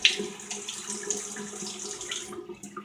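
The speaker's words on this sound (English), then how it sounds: "let's go ahead and get a little bit more water in the brush there" Tap water runs steadily from a faucet into a shaving brush at a sink, a continuous close splashing stream that thins out near the end.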